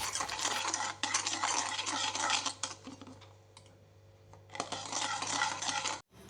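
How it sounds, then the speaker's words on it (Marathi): A spoon scrapes and clinks rhythmically against a bowl while ghee is mixed into a wheat flour chocolate cake batter, close and fairly crisp, with a brief pause in the middle. "आता तूप सुद्धा चांगलं मिक्स करून घ्यायचं।"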